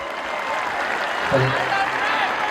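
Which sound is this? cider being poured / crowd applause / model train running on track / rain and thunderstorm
crowd applause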